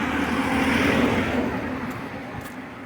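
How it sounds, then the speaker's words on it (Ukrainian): Steady car traffic noise on an early-morning street in Kraków, heard as a continuous broadband rumble and hiss that swells slightly and then eases, with no voices. "Машини, звичайно, заважають шум від машин"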